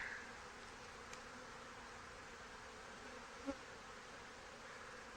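Honey bees buzz softly and continuously inside an opened backyard hive, a faint steady drone with one small knock partway through.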